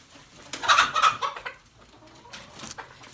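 A chicken clucks several times in a short burst, close by and fairly loud, then softer scratchy background sounds follow.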